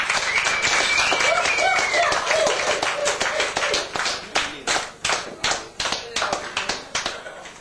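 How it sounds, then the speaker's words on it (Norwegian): Applause and clapping from an audience at a drinking contest in a hotel in Ulsteinvik, 1986, sustained and dense at first, then thinning into separate rhythmic claps toward the end. "Det synes jeg vi skal gi en applaus for alle sammen."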